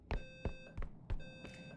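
An apartment fire alarm beeps in short, sharp bursts with a steady high tone, repeating at uneven intervals, fairly close and moderately loud with no talk over it.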